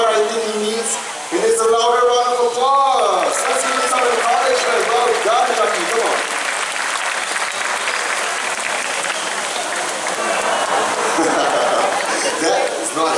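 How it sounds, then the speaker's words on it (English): Audience applause at a bird park's flying-bird show builds into loud, sustained clapping that fills most of the clip, after a presenter's voice and crowd chatter at the start. "He needs a louder round of applause."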